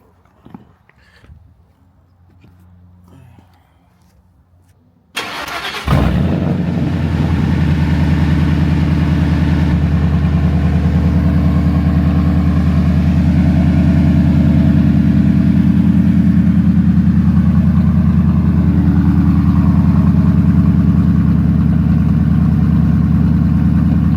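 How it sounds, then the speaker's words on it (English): A 1999-2004 Ford SVT Lightning pickup truck engine cold-starts after quiet background, catching with a burst, then settles into a loud, steady, deep idle that runs close by without a break. "we should give you guys a cold start"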